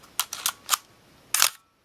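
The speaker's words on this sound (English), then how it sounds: "we can look inside and see the shutter operating at all the different speeds" A Minolta X-700 film camera's shutter fires at 1/1000 second with the lens removed, giving a cluster of sharp mechanical clicks and clacks, then a louder snap and a faint final tick, close and crisp.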